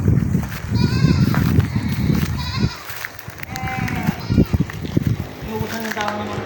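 Goats bleat on a rural farm near a mango orchard in Ilocos Sur, several wavering calls close by and overlapping, while children and adults talk and play around them.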